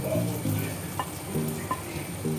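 Fried chicken pieces go into a pan with butter for a creamy chicken dish, producing a soft, continuous sizzle with a few light clinks of stirring.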